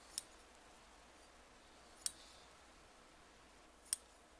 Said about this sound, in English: And I'm just going to snip some threads between.